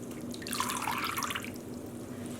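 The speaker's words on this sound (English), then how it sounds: "trying to let some of the drips drip out" Dye water drips from wet wool or cotton yarn, freshly dyed with Dylon hand dye and lifted from the dye bath, into a basin, giving a steady close trickle and patter with faint room hum underneath.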